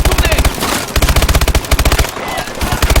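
Armored turret machine-gun fire in the video game Call of Duty: Advanced Warfare, loud rapid sustained bursts of automatic shots with brief gaps, close and dominant.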